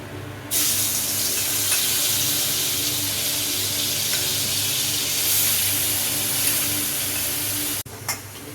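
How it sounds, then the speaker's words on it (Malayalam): Continuous bubbling sizzle of marinated mushrooms frying in oil, steady and fairly close, ending with a brief clatter near the end. "മാരിനേറ്റ് ചെയ്ത് വെച്ച ഇതില്ലേ മഷ്റൂം, അത് ഫ്രൈ ചെയ്തെടുക്കുക"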